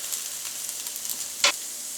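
Frozen pre-cooked bagged hash browns fry on a griddle with a soft, steady sizzle and a single sharp scrape or clatter near the end, close and quiet, no voices.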